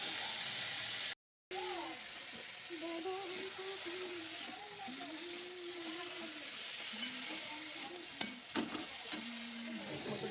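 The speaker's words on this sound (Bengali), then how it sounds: "এখন আলুটা ভাজছি" Potatoes frying in a pan on a home gas stove, a soft steady sizzle running throughout with faint scraping and a brief dropout near the start, a few sharper clinks toward the end.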